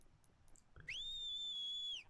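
A single sharp, high-pitched whistle in Horizon Zero Dawn holds steady for about a second, loud against a faint background with a few soft clicks before it.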